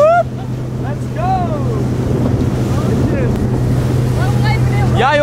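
A small motorboat's engine drones steadily with wind buffeting the microphone and water splashing, while voices call out and whoop over it.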